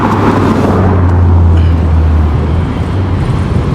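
A red double-decker bus rumbles loudly and close by in street traffic, a steady heavy engine drone lasting throughout.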